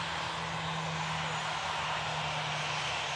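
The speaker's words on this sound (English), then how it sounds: "this 74 in question is a 24-year-old Boeing 747-400." A 24-year-old Atlas Air Boeing 747-400 jet sends out a continuous broadband engine roar with a steady low hum underneath, constant and fairly distant, with no voices.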